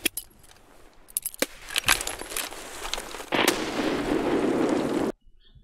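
Grenade blast in Escape From Tarkov: a few sharp metallic clicks and bangs, then a loud roaring burst that lasts about two seconds before cutting off abruptly.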